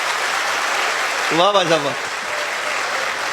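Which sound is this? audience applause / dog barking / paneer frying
audience applause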